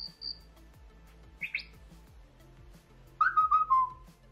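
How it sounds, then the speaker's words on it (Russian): A Xiaomi MIUI 11 smartphone notification tone built from nature and bird sounds: a few bright chirps and whistled tweets, ending in a louder warbling call over a soft ticking background. "Теперь при получении оповещений смартфон издает звуки природы и птиц"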